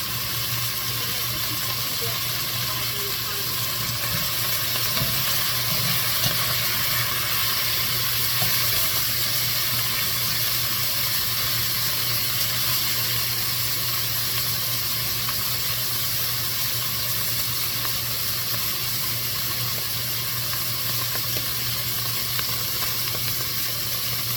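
Beef stew meat for a low-carb keto stew sizzles and fries steadily in a hot pan, a constant bright hiss that stays even and close for the whole stretch.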